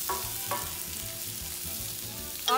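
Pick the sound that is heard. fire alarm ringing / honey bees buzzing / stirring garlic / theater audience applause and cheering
stirring garlic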